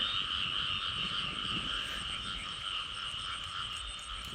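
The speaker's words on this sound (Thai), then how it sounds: "กบกำลังโคมกันพี่น้อง" Frogs croak in a dense, steady night chorus, a constant shrill trilling close by with no pauses over the whole stretch.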